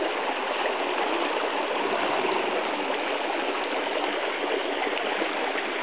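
Mountain river waterfall on the Dederkoy river in August, a steady broadband rush of falling water that stays loud and unbroken throughout, with no voices.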